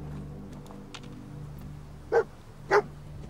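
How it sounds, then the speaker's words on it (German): A dog in the video game Fallout 4 gives two short, sharp barks about half a second apart over a low background hum, with no talk during the barks. "Hund hat etwas gefunden."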